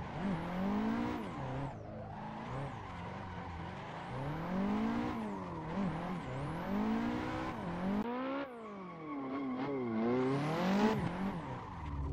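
A Nissan Skyline drifts in the Assetto Corsa racing game, its engine revving up and down in repeated sweeping surges under continuous loud tire squeal, with brief drops as the car shifts and slides.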